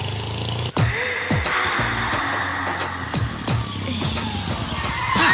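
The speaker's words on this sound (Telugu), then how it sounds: "అన్సడన్ బ్రేక్ వేశారు" A vehicle brakes suddenly and skids in a comedy film scene, with a sharp stop followed by sweeping tyre squeals and rough scraping over a steady engine hum, loud and close, with no voices.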